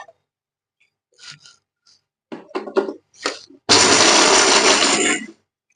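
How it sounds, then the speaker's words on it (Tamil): A kitchen mixer grinder whirs loud and steady for about a second and a half while grinding roasted peanuts, following a few scattered handling clicks and knocks. "வறுத்து உடைச்ச வேர்க்கடலை இதை கொஞ்சம் லேசாக குறை குறந்து மிக்சியில் போட்டு நம்ம அடித்து எடுத்துக்கணுங்க"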